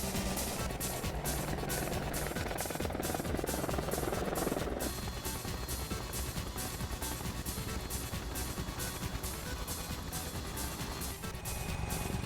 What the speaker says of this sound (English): The Apache Longbow is principally a killing machine